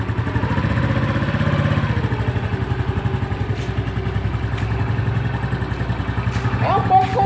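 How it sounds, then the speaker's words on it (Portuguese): Honda Pop 110i motorcycle pulling away from a stop, a close, loud thumping single-cylinder idle that rises as the throttle opens and the clutch is eased out, with a faint clatter near the end. "você vai acelerando aos poucos e soltando bem pouco a embreagem também"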